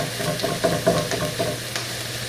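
Chopped onions fry in a pan for chicken curry, giving a steady, close sizzle with a few soft scrapes and clicks of stirring throughout.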